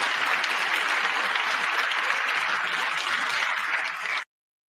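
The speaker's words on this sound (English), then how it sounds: "To support the defense of Ukraine, you applaud." Audience applause during a political speech, a dense, even wash of clapping that stays steady and fairly loud for about four seconds before cutting off abruptly.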